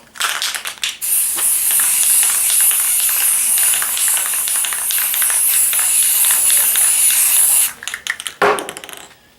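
A long, steady hiss of an aerosol spray paint can onto a homemade kite shield after a malfunction, close and loud for several seconds, bracketed by brief clicks and rattles.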